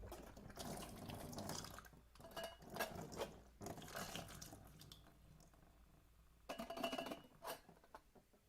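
Running water rinses developed film, a faint, uneven splashing and trickling that comes in irregular bursts with short quieter gaps.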